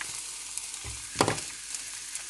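Beef cheeks fry in oil, a quiet steady hiss of sizzling with a soft clink of a utensil midway and a few small crackles, no speech.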